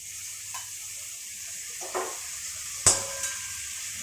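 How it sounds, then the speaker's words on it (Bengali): Ground spice paste added to fried potatoes in a pan for a vegetarian paneer curry, with a steady sizzle and a few scraping stirs, one sharper clack near the end; no talking. "আমার আলুটা ভাজা হয়ে গেছে, এর মধ্যে আমি মশলাটা যেটা বেটে রেখেছি সেটা আমি মশলা দিয়ে দিচ্ছি।"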